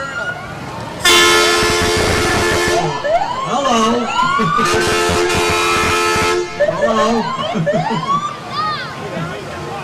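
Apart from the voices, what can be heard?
volunteer fire truck and ambulance sirens and horns in parade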